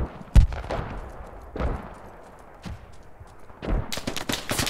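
Gunfire in the military shooter Squad, with one loud close shot followed by several more separated bangs and a burst near the end, ringing against a quiet background.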